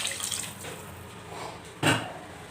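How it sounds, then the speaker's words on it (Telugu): Half a litre of water poured into a pot of taro and dried fish curry, a soft running splash through most of the stretch with a brief louder slosh near the end. "ఇవి పచ్చిగడ్డలే కాబట్టి మనం ఒక 1/2 లీటర్ వాటర్ కూడా వేసుకుందాము."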